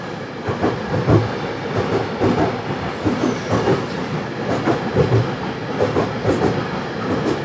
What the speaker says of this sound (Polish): Pociąg do Radomia. Tak, pociąg do Radomia.